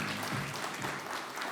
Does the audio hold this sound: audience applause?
yes